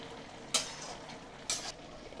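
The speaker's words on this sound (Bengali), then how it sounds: "এবার গ্যাসের ফ্লেমটা হাই করে দিলাম, দিয়ে ভালো মতো নেড়ে চেড়ে দেখে নেব আলু সব ঠিকঠাক সেদ্ধ হয়েছে কিনা" A potato and prawn curry with Malabar spinach stirred in a pan over a high gas flame, two brief scraping strokes over a quiet bubbling hiss, close but soft.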